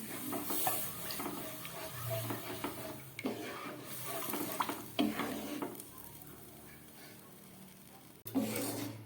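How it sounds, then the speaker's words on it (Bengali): Lentils for a Bengali vegetarian khichuri being rinsed under running tap water in a sink after dry roasting, with steady splashing and gurgling water, clattering grains and a few louder bursts of flow, no talking. "এবার আমি গ্যাসটাকে অফ করে ডালটাকে ধুয়ে নেবো"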